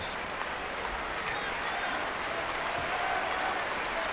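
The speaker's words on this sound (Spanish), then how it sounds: "El público aplaudiendo" An arena audience at a SummerSlam 2008 wrestling event applauds, a soft, steady wash of distant clapping that carries on without a break.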